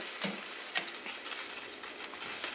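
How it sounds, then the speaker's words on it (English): Liquid hitting a hot pan while Caribbean stew chicken cooks, a steady sizzle and bubbling with a few sharp clinks of a spoon against the pot, close and continuous. "Just going to deglaze that a little bit."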